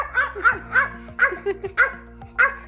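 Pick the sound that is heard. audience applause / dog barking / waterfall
dog barking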